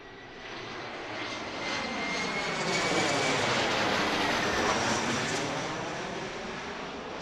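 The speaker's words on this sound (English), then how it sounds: "Oh, we got one on landing on 28 left." An airplane comes in to land on runway 28 left at Pittsburgh International Airport, its engine roar swelling steadily to a loud, broad rumble and then easing off slightly, with no talk over it.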